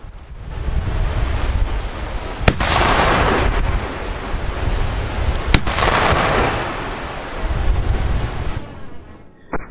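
A Parker Hale P53 Enfield rifle-musket fires two sharp, loud shots a few seconds apart on a long-range target course. Each report rolls into a broad, rushing rumble over steady outdoor wind noise.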